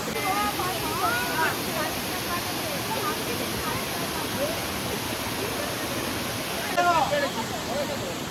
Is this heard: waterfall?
yes